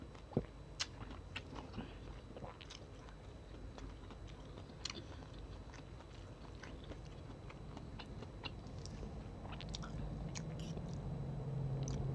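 Someone chews crispy fried noodles in gravy (rad na mee krob), giving soft, close crunches and small wet bites scattered over several seconds at low volume, with no talking.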